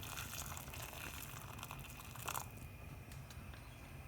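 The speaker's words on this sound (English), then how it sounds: "I'm just going to add in the fresh water now. So cover up over the beef." Fresh water pours into a pot over beef for an Irish beef stew, a steady rushing gush with brief sloshing bursts near the middle, heard up close and alone.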